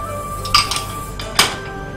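Hazelnuts and almonds being pounded to release their oil: two sharp clinking knocks, about a second apart, with a few lighter taps between them, close up and otherwise quiet.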